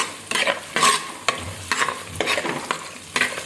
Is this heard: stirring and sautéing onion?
yes